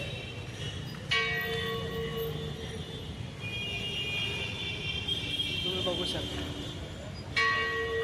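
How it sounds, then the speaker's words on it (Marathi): The bell of an old British-era church rings out nearby, two clear strikes several seconds apart with a lingering hum, while a person talks underneath. "घंटा वाजलेली आहे."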